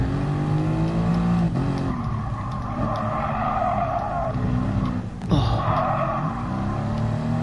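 Safety car engine in an F1 video game on the Catalunya circuit drones continuously as it drives, with pitch sweeps from gear changes and acceleration, a brief dip and surge near the end, and no speech.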